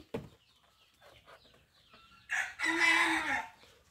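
Chickens on a small farm cluck softly in short scattered bursts, then a loud drawn-out crow rings out near the end, close and clear.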